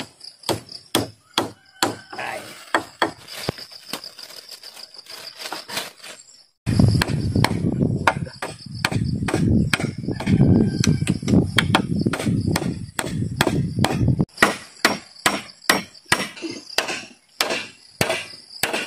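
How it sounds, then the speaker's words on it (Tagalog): Sharp hammer blows strike wood in a steady rhythm while building a roof, pausing while a louder rumbling noise runs underneath, then the pounding continues. A voice briefly exclaims once. "Unang pukpok."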